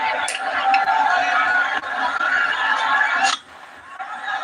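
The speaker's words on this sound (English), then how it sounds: "the crowd is building" A cricket stadium crowd at a night league match roars and chatters loudly and continuously, with sharp shouts and whistles standing out, plus a brief dip before the noise swells again.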